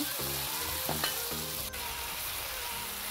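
Pumpkin leaves sizzle steadily in a hot pan for a vegetarian dish with jackfruit seeds, a continuous close frying hiss with a few clanks of stirring near the start and no talk.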